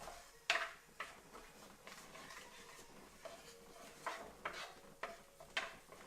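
A spoon stirs a coconut curry mixture for shrimp in a pot, making faint scraping clinks and soft taps at an irregular rhythm over a quiet, hissing background.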